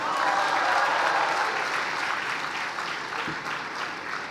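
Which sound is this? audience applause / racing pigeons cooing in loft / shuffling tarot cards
audience applause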